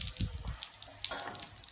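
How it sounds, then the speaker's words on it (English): Water splashes and trickles while shampoo is rinsed off a dog's face, a short spell of close running and dripping water with uneven bursts. "rinse off his face."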